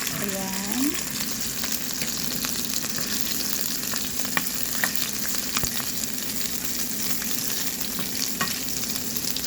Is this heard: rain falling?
no